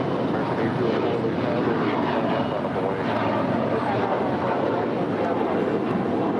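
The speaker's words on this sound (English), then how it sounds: "That is a 777-300 ER." A Boeing 777-300ER airliner takes off at LAX, a loud continuous jet engine roar filling the air with steady broadband rumble and hiss.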